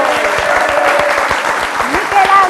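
Studio audience applauding the Proloco di Pozzuolo team on an Italian TV quiz show, steady dense clapping throughout with a voice talking over it and some tonal music in the background.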